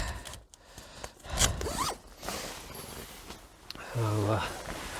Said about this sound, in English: So just need to pull out that way and then zip the doors down.